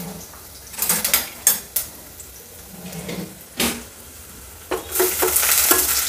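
Onion and ginger sautéing in a pan, a steady sizzle broken by several sharp stirring scrapes and clinks, close up with no talking.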